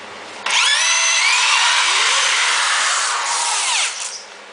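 A power drill bores into a steel rear axle brake bracket, a loud sustained high whine for about three and a half seconds that dips slightly before winding down.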